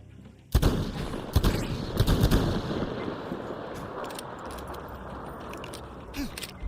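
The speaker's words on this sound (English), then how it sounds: "Other people are shooting at us." Gunshots from other players in Metro Exodus on PS5: a sharp shot, then a ragged cluster of loud reports, fading into a low rumbling background with a few faint later pops.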